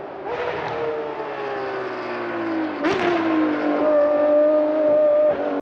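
A Ferrari track-only car's engine revs hard, a loud sustained high-pitched wail that climbs, drops sharply at a shift, then rises again before cutting off abruptly.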